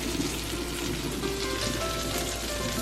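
Fish frying in a pan gives a steady, dense sizzle that runs unbroken and fairly quiet throughout, with no voices over it.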